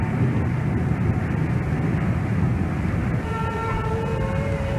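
A British diesel locomotive, a Brush-built Class 31, rumbles steadily past with a deep, continuous drone, and a horn-like tone rises near the end.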